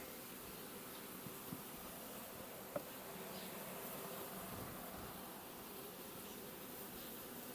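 A steady, soft buzzing of many honeybees in a hive fills the space, a dense insect hum with no talking.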